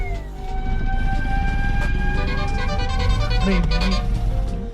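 An ambulance siren wails steadily over loud road traffic rumble, its rising and falling tones sustained throughout, with faint voices mixed in.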